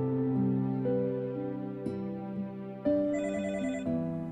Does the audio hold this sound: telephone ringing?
yes